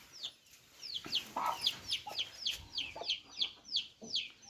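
A domestic chicken wandering around a rural Kannada family home gives a run of sharp, repeated clucks, about ten evenly spaced calls at close range with faint background sounds and no talking.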